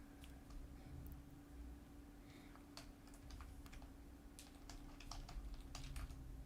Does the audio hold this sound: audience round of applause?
no